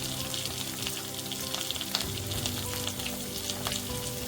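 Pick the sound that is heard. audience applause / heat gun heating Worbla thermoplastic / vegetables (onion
vegetables (onion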